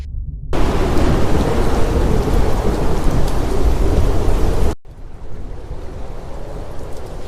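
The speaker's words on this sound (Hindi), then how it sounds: "अंधेरी रात, आसमान में बादल गरज रहे हैं।" Heavy rain pours steadily with a loud rumble of thunder, then the roar drops to a softer but continuous downpour.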